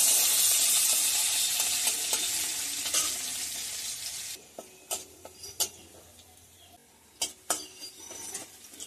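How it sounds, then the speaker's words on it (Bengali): Garlic frying in hot oil: steady sizzle fills the first few seconds, then settles into a quieter fry broken by sharp scraping and clinking clicks from stirring. "রসুনটা দিয়ে অল্প ভাজবো।"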